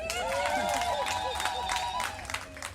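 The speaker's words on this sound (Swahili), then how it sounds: "Tupige makofi." A church congregation in a parish claps together, a dense patter of applause that fades out, with a sustained tonal sound running beneath it.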